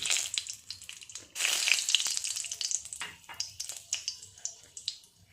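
Cumin seeds, three cloves and two cinnamon sticks sizzle in hot oil with a bright, crackling fizz that swells, then settles into steady popping and spitting.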